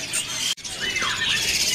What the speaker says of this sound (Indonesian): Ini ada burung kepodang ya,